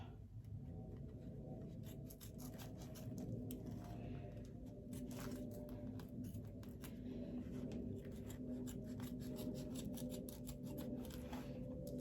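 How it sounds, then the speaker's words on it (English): Scissors trim fabric for a zipper bag in a quiet room, making a soft, irregular series of faint snipping and scraping clicks heard close up, with no voices. "I'm just gonna trim it a little bit better"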